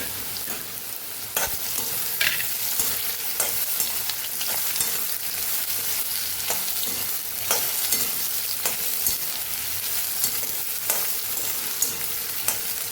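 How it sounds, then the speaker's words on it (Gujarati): Ridge gourd tempering of cumin, dried red chillies, a bay leaf, cloves and star anise sizzles in a pan, a steady close crackling hiss broken by periodic sharp scrapes and clicks of stirring. "તુરિયાનો આપણે વઘાર કરી લઈશું."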